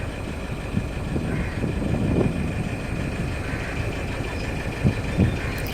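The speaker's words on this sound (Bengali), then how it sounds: "আমাদের ট্রলার ছুটে চলল" The engine of a trawler boat drones steadily and loudly while it runs out from the Frasergunj fishing harbour toward the estuary and the Bay of Bengal, with a few brief bumps on top of the low rumble.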